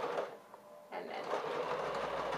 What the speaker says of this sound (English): continue as you sew.